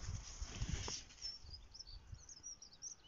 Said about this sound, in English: I can just hear the birds.